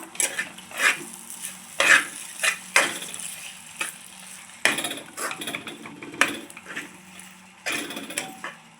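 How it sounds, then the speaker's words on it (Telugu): A spoon scraping and stirring semolina ladoo mixture around a pan in a home kitchen, in irregular bursts of scraping strokes with quieter gaps, close and clear with no talking. "ఇలా మొత్తం తిప్పుకుందాం బాగా మొత్తం ఇలా కలుపుకుందాం"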